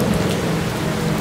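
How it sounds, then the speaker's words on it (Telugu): Torrential rain pours steadily around a village in a dense, unbroken hiss, with a low rumble that may be thunder beneath it; no voices. "ఊరు చుట్టుపక్కల కుండపోత వర్షం మొదలయ్యింది"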